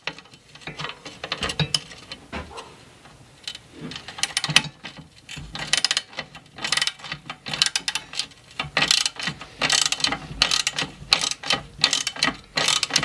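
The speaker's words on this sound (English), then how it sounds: "Let's get some wrenches." Wrenches work on the screws of a Troy-Bilt tiller, giving irregular ratcheting clicks and metallic taps in uneven bursts, moderately quiet and close, with no talking.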